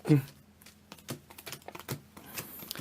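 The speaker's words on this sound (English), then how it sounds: "Let me just hard shuffle this." A deck of Madolche trading cards is hard shuffled close up, a rapid run of crisp clicks and flutters in an uneven rhythm, fairly quiet and heard alone.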